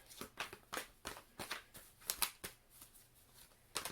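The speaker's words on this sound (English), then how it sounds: "So let's pull some tarot cards" Tarot cards shuffled by hand, heard as a quick rhythmic series of close, soft riffling slaps, roughly three per second and steady throughout, with no talking.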